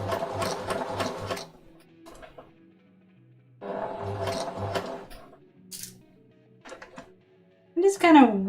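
A sewing machine stitches fabric in quick, rhythmic bursts of needle chatter, stopping and starting again. Between runs come quiet handling noises and a short burst of speech.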